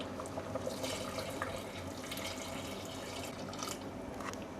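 Hot water poured into a pot of Agri-Koli wedding-style mutton curry, a steady broadband splashing and trickling that runs evenly throughout at moderate, close level with no talk.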